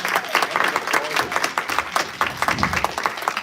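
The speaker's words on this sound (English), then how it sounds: "Let's give them another huge round of applause." A congregation applauds during a Friday family worship service at Temple Shalom Emeth, a short burst of close, uneven clapping from a modest group with some voices mixed in.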